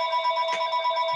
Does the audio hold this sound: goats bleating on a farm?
no